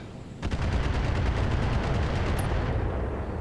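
LRM 20 turret firing missiles in the Battletech video game, a fast rippling salvo of dense launches starting abruptly and rumbling loud and continuous to the end, with no talking.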